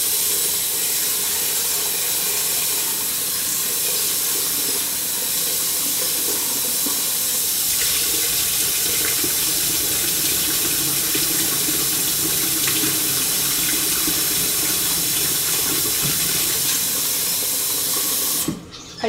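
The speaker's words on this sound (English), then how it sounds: "Let's just rinse them off a bit." Dry beans rinsed under a running kitchen tap, a steady hissing rush of water into a sink lasting throughout, close and continuous, ending abruptly near the end.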